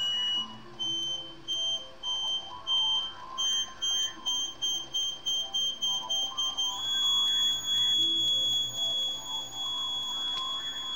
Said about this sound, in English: Now you reverse the direction and turn until you hear the continuous tone.